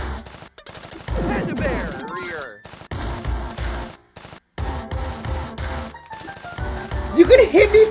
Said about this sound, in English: How do I get him to stop firing on me?